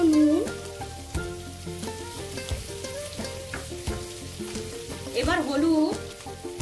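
Radish and potato frying in a pan, with a loud, close, steady sizzle and crackle of oil plus occasional scraping as the pieces get stirred, while a person says a few words partway through.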